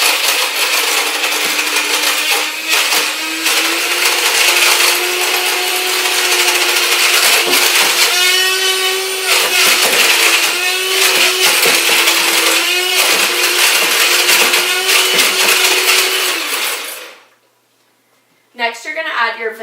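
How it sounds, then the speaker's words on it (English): An electric mixer whirs through cake batter as eggs are beaten in, a loud, steady motorized buzz with rattling and clicking against the bowl, running for most of the stretch before cutting off abruptly, then briefly restarting. "We're going to add one at a time and mix in between each one."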